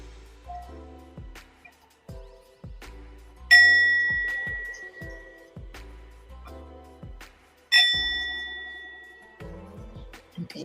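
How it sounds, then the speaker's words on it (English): A sound bowl is struck twice, each strike ringing out bright and sustained before slowly decaying, amid soft handling knocks and taps in a quiet room. "Sound bowl, I mean."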